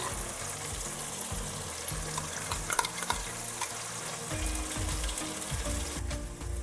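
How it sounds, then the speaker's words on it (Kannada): Tomatoes and ginger-garlic paste fry in a pan for a festival dish, with a steady, close sizzle and a few scrapes and clinks of stirring, and no voices. "ಈಗ ಶುಂಠಿ ಬೆಳ್ಳುಳ್ಳಿ ಪೇಸ್ಟ್ನ ಹಾಕ್ತಾ ಇದ್ದೀನಿ"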